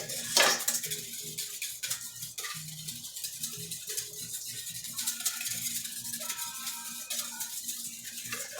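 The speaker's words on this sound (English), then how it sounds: "For me, whisking is all about scraping the bowl or the pan." A metal whisk scrapes and clinks against a bowl or pan in quick, busy, uneven strokes; a rattling metallic scratch runs steadily, close and fairly clear, with no voices over it.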